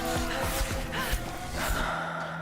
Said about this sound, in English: gasping.